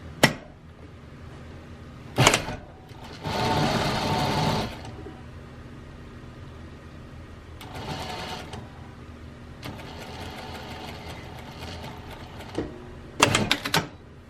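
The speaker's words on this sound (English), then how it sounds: "I'm about to sew it." Sewing machine stitching a welt seam, with several bursts of rapid mechanical whirring of varying length between pauses, plus a few short sharp clatters.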